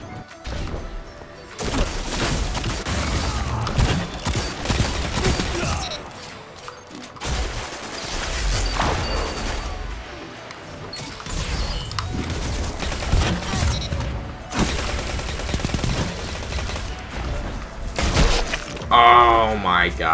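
Suros Regime auto rifle firing in the Destiny video game, repeated loud bursts of rapid gunfire mixed with impacts and game effects, with a voice talking over them.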